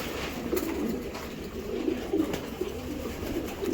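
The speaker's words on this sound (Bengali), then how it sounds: "খুবই স্পেশাল কবুতর এটা পাইট" Racing pigeons cooing in a loft, with soft repeated low coos close by over a steady background hum.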